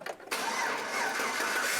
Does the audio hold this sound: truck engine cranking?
yes